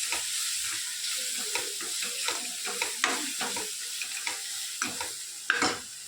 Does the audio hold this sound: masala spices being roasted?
yes